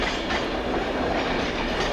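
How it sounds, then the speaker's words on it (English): A slightly delayed Virgin Trains West Coast passenger service from London Euston to Edinburgh Waverley, a Class 390 Pendolino, pulls into Carlisle station with a steady loud rumble and rhythmic wheel clatter, no voices. "Just now coming in, the slightly delayed 1902 Virgin Trains West Coast service from London Euston to Edinburgh Waverley."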